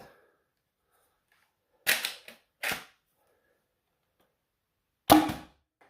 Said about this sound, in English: I want to show you the Mega XL dart fire out here.